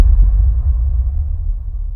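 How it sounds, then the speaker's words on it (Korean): An AI-generated close-proximity explosion, heavy low rumble filling the whole stretch with a brief thump near the start and a slowly fading roar, loud and alone with no voices. "An explosion in a close proximity 들어보시죠."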